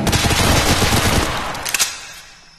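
Rifle gunfire in the VR shooter Tactical Assault VR: a loud, dense burst of rapid automatic shots for about two seconds, ending in a couple of final cracks before fading out.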